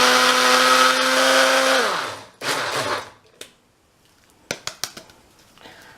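A blender grinds graham crackers into crumbs for a pumpkin pie crust, a loud whirring motor that winds down, restarts briefly, then falls quiet before a few sharp clunks and taps.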